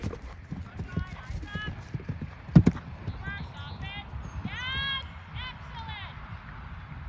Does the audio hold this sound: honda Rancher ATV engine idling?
no